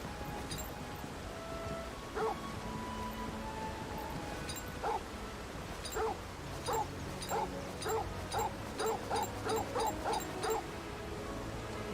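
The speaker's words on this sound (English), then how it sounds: "Got wild dogs." Wild dogs in Final Fantasy XVI give a run of sharp yips and barks, sparse at first and then quickening into a dense volley, over a steady ambient bed.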